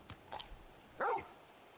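Torgal, a large dog in Final Fantasy XVI, gives a couple of short yips followed by one louder bark, faint at first and then close and clear, with no voices.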